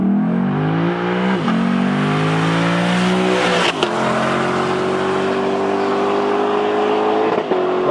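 A Lexus LC500 Convertible pulls hard with the engine climbing through the revs, dipping at each gear change and then rising again, close and loud, with no one speaking.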